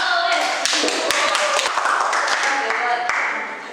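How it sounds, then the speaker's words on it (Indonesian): Applause from an audience at an anti-corruption outreach session, a dense patter of hand claps with a few sharper taps standing out, steady and fairly close for a few seconds before easing off, with voices mixed in. "Oke, tepuk tangan untuk semua."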